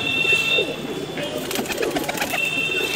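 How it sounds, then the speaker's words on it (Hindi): Pigeons in a loft in Bijnor, India, cooing softly and steadily, with faint background noise and occasional brief wing or bird sounds mixed in. "बहुत ही शानदार कबूतर है ये।"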